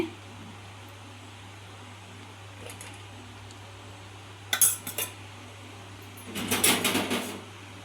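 A spoon stirs sweet corn and peanut kosambri salad in a bowl, giving a few short clinks and scrapes in two small bursts over a quiet background hum.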